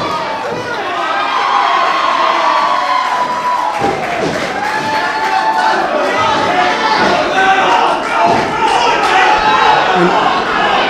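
A crowd at an Atomic Championship Wrestling match erupts after a drop kick, with loud sustained cheering, shouts and whoops. A commentator talks over the noise and occasional thuds are heard.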